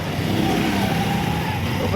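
Heavy roadside traffic in Porac, with car and motorcycle engines droning and idling in a continuous, fairly loud rumble, one vehicle revving up near the end.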